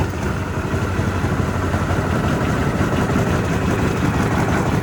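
An engine with the choke on runs steadily and loudly with a throaty, even rumble, close up and alone, with no voices.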